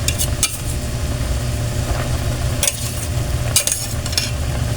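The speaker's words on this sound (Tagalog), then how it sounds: "Tapos, ilalagay na natin yung ating pinigang santol." Squeezed santol being added and stirred into a boiling pot of coconut-milk vegetable stew, a steady bubbling simmer with scraping, clinking stirs and a few sharper bursts of spoon against pot.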